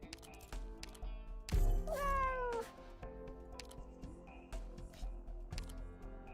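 Cat meows used as a voice line for an Arknights character, a short rising-and-falling meow near the middle standing out over light tapping and background game sounds.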